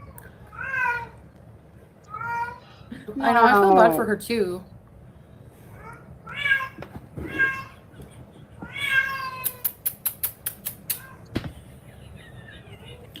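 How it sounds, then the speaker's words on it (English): A female cat in heat meows and yowls in several loud, drawn-out wails, with people talking in between and a quick burst of sharp clicks partway through. "Is the cat in heat? Yeah, she is."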